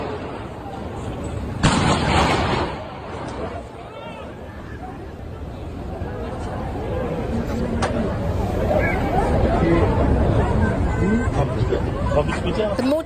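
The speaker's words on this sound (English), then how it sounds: "two gunshots, viewers, as you can see and hear in that video, being fired" Two sharp gunshots ring out close together near the start of an outdoor political speech by a politician, recorded by an onlooker, followed by a swelling murmur of crowd voices and shouting.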